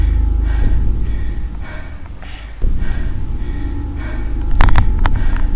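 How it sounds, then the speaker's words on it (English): Heavy, ragged breathing and snorts of the pursuer in the horror video game Slender come in uneven bursts, loud and close, with a sharper gasping surge near the end. "It's like you can hear her breathing!"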